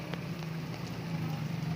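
Heavy monsoon rain pouring down in Taxila, a dense steady hiss of downpour that holds constant and close, with no voices.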